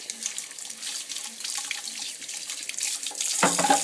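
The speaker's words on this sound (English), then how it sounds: "First thing you want to do is rinse all the stuff off." Tap water runs steadily into a sink while Omega VRT350 juicer parts are rinsed, a continuous hiss of splashing that swells louder near the end, with no talking.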